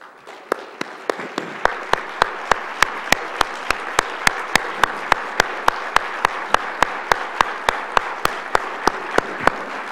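Audience applause for representatives of the signers of a state compact at a public event, a broad steady roar of clapping with sharp regular claps standing out, sustained at even loudness for the whole stretch with no talk.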